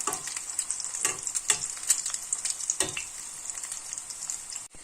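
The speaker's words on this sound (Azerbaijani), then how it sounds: "artıq kənarları qızarmağa başlayıb, demək çevirməyə hazırdır və ehtiyatla çevirirəm" Potato cutlets coated in egg frying in a pan, giving a steady bright sizzle with occasional soft clicks of a utensil nearby, no voices.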